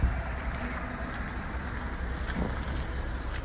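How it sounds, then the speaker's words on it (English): A Skoda Kodiaq SUV with a 1.5 TSI 150ps engine idles in the background, a steady, low, even hum with no speech and no rise in revs. "Got the car turning over in the background, so you might be able to hear the engine"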